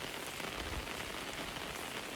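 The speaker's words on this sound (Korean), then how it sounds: "오늘은 이제 오늘 내일 비 오고" Soft, steady rain patters on a garlic field in Danyang during harvest season, a faint, even hiss of drops with no voices.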